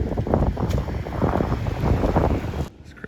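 Strong outdoor wind buffets the microphone in a loud, continuous low rumble with rough gusting, dropping off abruptly just before the end.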